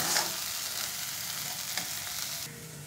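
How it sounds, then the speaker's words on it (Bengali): Pointed gourd korma sautéing in a pan with kasuri methi, salt and sugar, a steady close sizzle with soft stirring scrapes, no voices. "দিয়ে এবার কষিয়ে নেব।"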